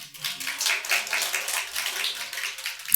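Korean church congregation clapping together during a Sunday service, a full, rhythmic burst of many hands in pulsing waves, loud and close with no talking over it.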